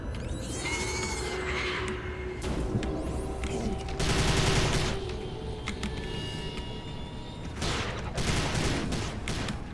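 Rapid bursts of gunfire from the shooter game Prey (2006), with repeated volleys and sharp crackling shots spread over several seconds, fairly loud and dense with game effects mixed in.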